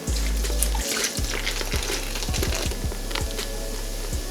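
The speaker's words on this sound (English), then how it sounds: "Throw in some beer." Beer poured into a homemade mild sauce mixture, a steady close pouring and fizzing wash of liquid that runs continuously for several seconds with a few small clicks and knocks.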